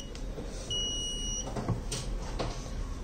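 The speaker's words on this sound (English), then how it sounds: "So initially the buzzer will be on and off 2 times." An electronic buzzer on a smart blind stick kit sounds a short tone, then a longer one, clear and close over a low background hum.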